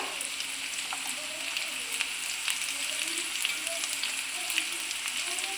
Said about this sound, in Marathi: कांदा, आलं लसूण आणि टमाटर आपल्याला चांगलं फ्राय करून घ्यायचं आहे।